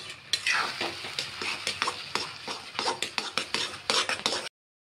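A spoon stirs semolina soaked in milk with nutmeg, cardamom and chopped dry fruit in a pan, giving steady scraping and clinking strokes with a soft sizzle, close and continuous, then cutting off abruptly.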